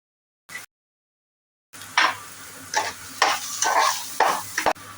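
Chopped carrot with salt being stir-fried in a pan for corn fried rice, with a run of sizzling bursts and scraping stirs up close, after a short click and a quiet pause.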